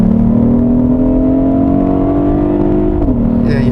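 A 2021 Hyundai Sonata N Line sedan engine drones loudly as it climbs toward redline in Sport Plus mode, its pitch rising steadily before dropping sharply at an automatic upshift near the end.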